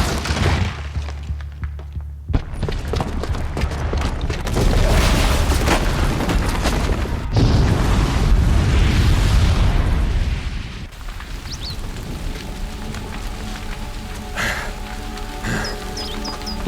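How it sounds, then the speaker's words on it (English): A loud explosion from a booby-trapped bomb in Horizon Zero Dawn roars across a long, dense stretch of rumbling debris and crashing, then settles into quieter game ambience. "the booby trap on the bomb downstairs is gonna get set off"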